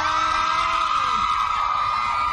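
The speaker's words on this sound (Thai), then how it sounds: "มีใครอยากเห็นบาสทำท่าแมวน้ำขอเสียงกรี๊ดดังๆ" A crowd screams and whoops continuously at high pitch, a loud sustained wall of shrill voices from an audience.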